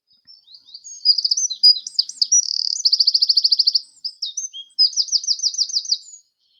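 A wren sings nearby and loudly, without any other sound: a run of high, rapid chirps, then fast buzzing trills, then another quick trill phrase, lasting about five seconds in all.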